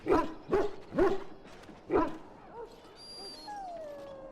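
A Mabari war dog in Dragon Age: Origins gives four sharp, close yips or whimpers in a regular rhythm, then trails off into softer, high-pitched whines and a thin, fading whimper.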